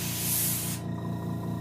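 A close, loud spray hisses for under a second as paint hits the front lip of a rock bass taxidermy mount, then stops abruptly, leaving a quieter steady hum.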